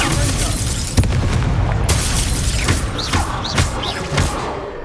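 The Incendio fire spell in Hogwarts Legacy blasts in repeated booming bursts over a dense, rumbling wash of gameplay noise, with several thuds and whooshing pops following one another.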